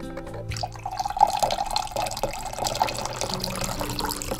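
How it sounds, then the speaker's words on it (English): Tea pours into a cup in NieR: Automata as a steady trickling, splashing stream that runs the whole time, with small drips and a rising, filling tone. "Let's pour some tea into some tea."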